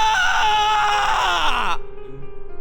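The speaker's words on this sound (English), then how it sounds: "after a necessary scream" In a Persona 5 Royal boss fight cutscene, a long strained scream holds loud and close for over a second, then cuts off abruptly into quieter low murmuring.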